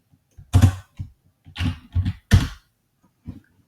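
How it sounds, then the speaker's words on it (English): A name is typed on a computer keyboard in a few close, distinct bursts of key clatter separated by short pauses, with no talking. "all I have to do in the keyword search is type in the name John Whitley."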